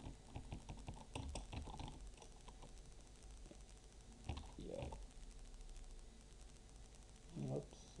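Keys on a computer keyboard clatter faintly in a quiet room in short irregular runs, with soft speech in places.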